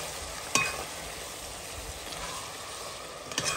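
Rougail saucisson cooks in a pan with a steady, gentle sizzle and frying crackle, plus two sharp clinks of a utensil stirring against the pan, no voices.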